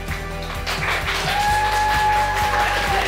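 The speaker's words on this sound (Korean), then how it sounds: "박수로 모시겠습니다." Audience applause welcoming a guest lecturer at a one-day seminar on Korean food culture: steady clapping from a seated crowd over a few seconds, mixed with sustained musical tones underneath.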